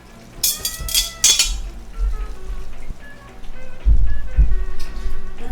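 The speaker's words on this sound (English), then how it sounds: "I'm just pouring normal old water over top" Water poured from above over the muddy roots of a repotted arrowhead plant held in a sieve, a splashing, rain-like patter with a few light clinks, steady throughout with heavier gushes near the end.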